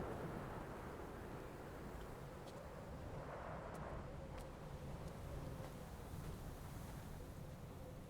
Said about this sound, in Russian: Ну и ветер как бы навевает тоску.